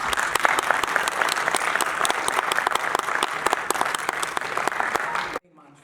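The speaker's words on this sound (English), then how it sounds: "Please welcome her with a huge round of applause." An audience at a TEDx event welcomes a speaker with dense, sustained clapping, loud and steady for several seconds before stopping abruptly, leaving near silence.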